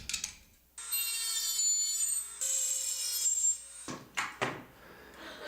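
Spring for a coil tattoo machine being trimmed, with a sustained high grinding whine for a few seconds, then short scraping strokes, close and alone.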